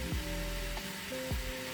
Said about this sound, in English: Sausage is gonna get a little bit browned